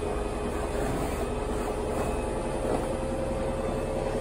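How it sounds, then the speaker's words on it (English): A washing machine hums and churns steadily in the background, a continuous low mechanical drone with faint tonal whine and no pauses. "I'm just doing some washing, it's just the washing machine."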